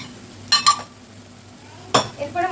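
A utensil stirs a spice mix of coriander, whole garam masala and dried chilli powder frying in a pan for egg curry, with a few sharp metallic clinks against the pan over a soft, quiet sizzle.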